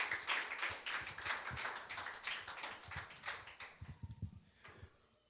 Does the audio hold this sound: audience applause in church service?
yes